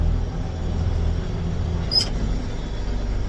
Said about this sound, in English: You got two tractors pulling a big dead one.